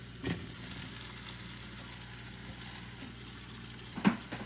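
Sausage hits a gumbo pot already full of peppers, onions and celery, giving a soft, steady sizzle with a couple of sharper clatters from the pot at the start and end.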